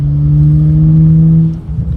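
BMW M135i running on methanol, with two silencers still on the exhaust, holding a loud, steady high rev as a sustained droning tone, then dropping off abruptly near the end.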